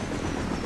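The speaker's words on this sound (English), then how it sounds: "Helicopter!" A video game helicopter roars in a loud, steady broadband rotor wash with low thumping throughout a short burst, no talk over it.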